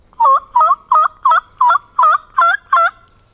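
A wild turkey gobbles in one long rattling burst of eight quick pulses, loud and fairly close in a quiet outdoor setting.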